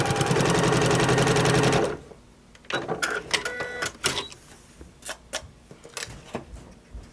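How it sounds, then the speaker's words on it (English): A home sewing machine stitching denim for a jean wine club project, a loud, steady rapid mechanical run for about two seconds, followed by quieter clicks and handling noises. "when you're sewing, sometimes you don't want your finger underneath the presser foot or near the needle"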